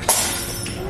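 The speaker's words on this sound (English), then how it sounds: "Somebody dropped a glass." A dropped glass breaks in one sharp, bright crash followed by a short fading tinkle.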